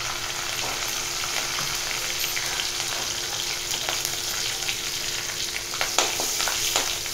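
Curry leaves and asafoetida fry in hot oil for a beetroot usili, a steady close sizzle with small crackles and pops throughout.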